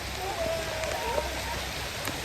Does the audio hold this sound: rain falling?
yes